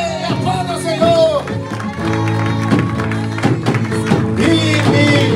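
Church congregation clapping for the Lord at a Portuguese-language service, a steady close patter of many hands over held organ or keyboard chords, with voices calling out now and then.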